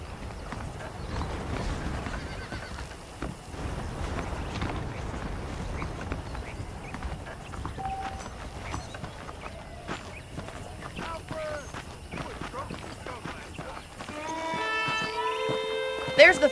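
A horse in Red Dead Redemption, hooves clip-clopping in a steady walking rhythm, with a whinny near the end, while someone talks over the sounds.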